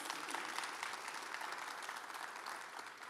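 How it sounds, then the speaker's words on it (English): An audience at a panel discussion applauds the women on the panel, giving a brief, even, fairly faint round of clapping with no voices on top. "Can we give these ladies a round of applause?"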